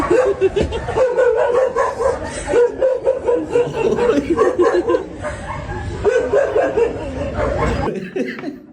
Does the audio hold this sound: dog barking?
yes